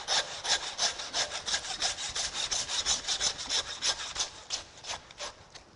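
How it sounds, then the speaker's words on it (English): A handsaw cuts through beef chuck vertebrae in quick, even back-and-forth strokes, a close rasping scrape repeating about four times a second with no talk. "Then with the handsaw, slice through the vertebrae between that 4th and"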